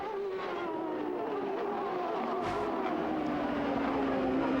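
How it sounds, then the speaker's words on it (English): A CART open-wheel race car, running off song with a possible header or turbo fault, drones past with a falling engine pitch, heard through a steady background roar without voices. "We've had another car pass our position with the engine off song."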